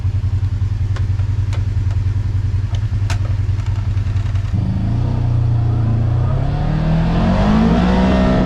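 A car engine fitted with a PV3 starts and idles with a low steady rumble and a few ticking clicks, then revs up with a rising, loud, close engine note.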